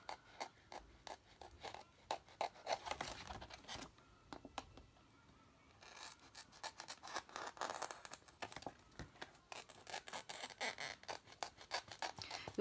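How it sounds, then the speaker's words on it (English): Sharp scissors slice through card in quick, close snips and sliding rasps, coming in irregular bursts with short quiet gaps, faint and heard alone. "You'll find your scissors automatically just slide along as well, if they're sharp enough."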